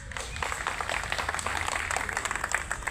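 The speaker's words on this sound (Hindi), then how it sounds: "और आप अपने लिए ही तालियां बजाइए।" An audience claps steadily at a public gathering in Delhi, dense applause spread evenly from start to finish with no pause.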